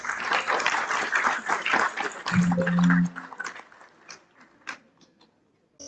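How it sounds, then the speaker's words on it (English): Applause for a paper presenter at a presentation event rises from a seated audience, a dense patter of clapping over the first few seconds that thins into scattered claps and fades out. "with a huge round of applause"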